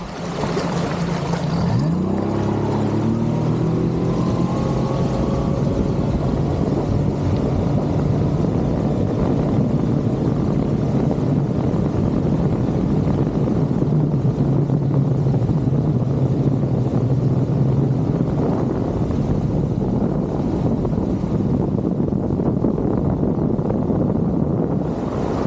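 Mercury 25hp Gen 4 outboard pushing a 1648 Jon boat on open water, a steady loud motor drone running throughout with a rising pitch sweep near the start and wind buffeting the microphone.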